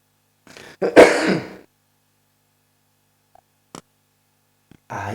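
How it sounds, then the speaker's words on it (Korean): A preacher coughing and short of breath during a church service: a close, rough throat clearing with a cough, followed by silence and a couple of faint clicks. "기침이 나고 숨이 차서"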